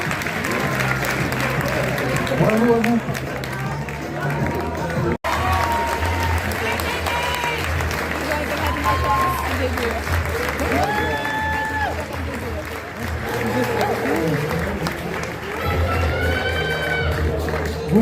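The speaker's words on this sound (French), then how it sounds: "vous pouvez encore les applaudir" Audience applause fills a graduation ceremony hall: dense, sustained clapping with some cheering, while a French-speaking announcer talks over it.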